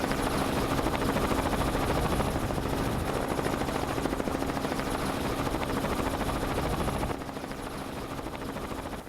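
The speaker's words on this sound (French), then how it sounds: "Oui, il y a une urgence, alors oui, on va envoyer l'hélicoptère, ok, pas de problème." A gendarmerie rescue helicopter flies over a rally raid, its rotor giving a loud steady chopping drone that continues throughout and eases slightly near the end, with no voices.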